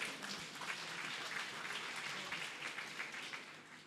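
Applause from an audience at a talk on financial stewardship and entrepreneurship: dense, even clapping that holds steady for a few seconds at moderate distance before easing slightly, with no voices over it.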